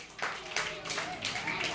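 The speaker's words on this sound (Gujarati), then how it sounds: "તાળીઓ પાડી જો ભાઈ." Children clapping during a classroom guessing game, with four quick, fairly faint claps at a steady pace and a voice in the background.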